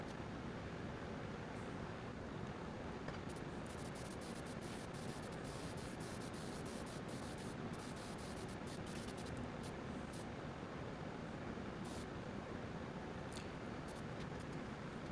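Air spray gun applying Cerakote coating to firearm parts, a steady unbroken hiss of compressed air and atomized spray that holds at the same level from start to finish, with no talking.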